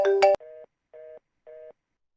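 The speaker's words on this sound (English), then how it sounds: "That ringtone." In the video game Sentence, a phone ringtone plays three short identical electronic beeps in an even rhythm, each followed by silence, right after a brief louder burst of noise at the start.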